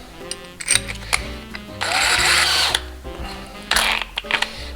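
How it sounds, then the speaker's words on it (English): A power drill with a 7/16 inch paddle bit bores into a 2x4 in two loud, buzzing bursts, separated by quieter clicks and handling noise. "we're going to drill a hole, and we're just going to pound them into the 2x4"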